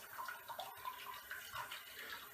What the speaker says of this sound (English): So let me go ahead and rinse this one out.